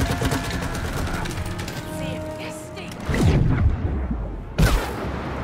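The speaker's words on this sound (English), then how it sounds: "Look at that explosion." An explosion in the video game It Takes Two breaks through busy game music as a loud burst, followed by a second heavy boom near the end.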